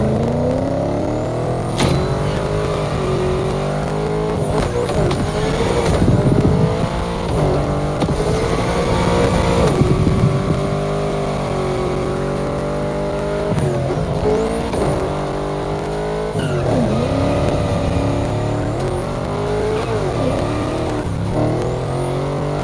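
A race car driven in the video game The Crew Motorfest, with a loud sustained engine whine that climbs and drops through gear changes, plus occasional tire screech. The engine runs without pause for the whole stretch.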